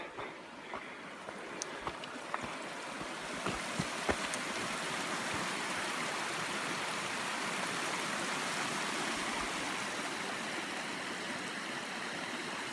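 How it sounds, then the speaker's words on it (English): A mountain stream flowing beside a forest trail, a steady broadband rush of running water, close and continuous, with a few faint knocks and steps early on. "Got a stream right here."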